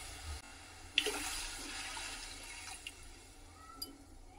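Faint water pours and splashes briefly into a vessel for steaming dough, a soft rushing stream that tapers off in a quiet room.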